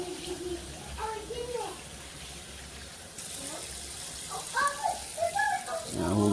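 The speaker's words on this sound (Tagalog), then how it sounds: "Hugas-hugas lang po tayo ng karne." Running tap water splashes steadily while raw beef is washed, a continuous gushing hiss under a person talking intermittently, close and moderately loud.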